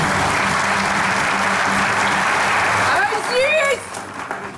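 A studio audience at a Turkish comedy sketch show breaks into loud, sustained clapping that fills the room, then thins out as a voice speaks over the tail end.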